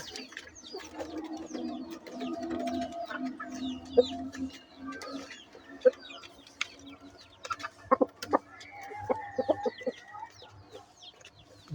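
Chickens cluck and chatter close by while they are fed, with a busy mix of soft clucks and sharper calls that grows more scattered and pecky toward the end.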